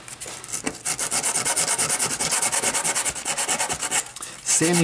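Sanding block rubbed over a 3D-printed uPrint prototype, giving a loud, steady run of rhythmic rasping strokes, close up and with no talk.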